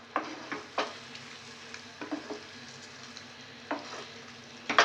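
Rava kesari being stirred in a pan for Kalyana kesari, giving soft scraping strokes and a light sizzle at close range, with irregular spoon knocks spread through the stretch and no voices.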